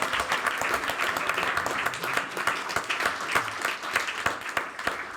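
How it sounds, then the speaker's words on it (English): A committee meeting audience gives a steady round of applause, dense overlapping clapping from a room of people that holds at an even level throughout without talk. "round of applause"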